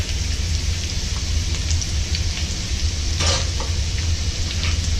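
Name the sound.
garlic added to orange zest, sizzling in pan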